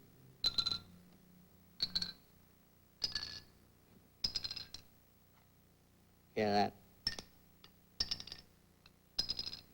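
A set of tuned vibrating bars is struck one after another in a classroom science demonstration, with one bar slightly out of tune with the rest. About eight bright, ringing notes sound at an even pace, and a voice speaks briefly between them.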